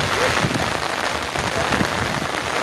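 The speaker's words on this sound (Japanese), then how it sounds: "今日と明日が一番雨が降っている" Steady rain pours down at an outdoor disc dog frisbee competition in Aso, a dense, loud patter on surfaces that carries on unbroken throughout.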